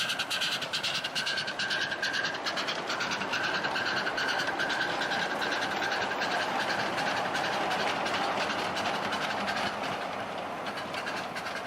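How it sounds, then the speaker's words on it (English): Train running along the track at a model engineering society's annual Track & Tent event, a steady rolling rumble with continuous rail clatter and a faint whistle-like tone, moderately near and unbroken throughout. "a few very interesting locomotives are on the track already"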